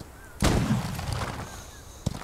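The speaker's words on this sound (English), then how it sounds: "Follow the gunfire." Gunfire in the Western video game Outlaws of the Old West: one sharp, loud shot that rolls into a booming echo, then a second crack about one and a half seconds later.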